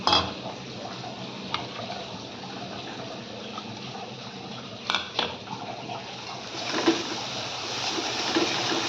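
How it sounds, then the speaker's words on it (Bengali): Water left over from rinsing a stone grinding slab is poured into a pan of mustard-based fish curry, giving a soft, steady liquid wash with a few sharper splashes and light utensil clinks. "এখানে শিলনোড়া ধোয়া একটু জল আছে ওইটাই দিয়ে দেবো"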